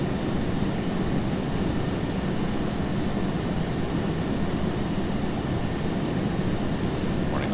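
Steady, loud broadband roar of a T-38A jet's engines spooling up and running in a flight simulator game, a continuous rumble heard up close with no break.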